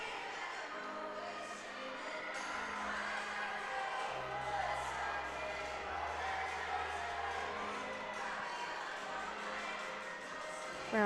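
A large crowd at a Michigan State versus Ohio State gymnastics meet cheers wildly in a steady, sustained roar, with whoops and shouts and a voice mixed into the noise.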